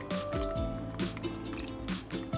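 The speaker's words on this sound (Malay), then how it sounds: "letak air dalam ni" Water poured from a container into a cooking pot holding garlic, shallots, chili and salt for boiled turmeric mackerel, giving close, steady liquid splashing and dribbling with a few brief drip-like pauses.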